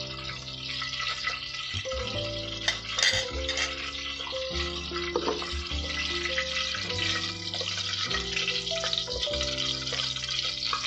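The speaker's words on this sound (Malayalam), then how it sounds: "ഗ്രാമ്പു, വയനയില, 3-4 കുരുമുളക്, ജാതിപത്രി, തക്കോലം, ഇതെല്ലാം ഇട്ടൊന്ന് പൊട്ടിക്കുകയാണ്" Whole spices (cardamom, cloves, bay leaf, a few peppercorns, mace and star anise) frying in hot ghee for ghee rice produce a continuous dense crackle and sizzle, with a steady low hum beneath and occasional stirring knocks.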